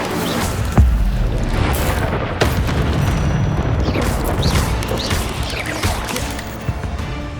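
An Incendio fire spell cast in Hogwarts Legacy gives a loud, dense whooshing roar of flame with a sharp boom near the start. It sustains a crackling rumble for several seconds, then eases slightly.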